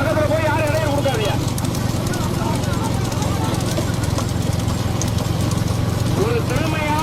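Bulls pulling a racing cart, their hooves drumming in a fast, steady rhythm beneath a loud voice over a loudspeaker and a constant background rumble from the roadside.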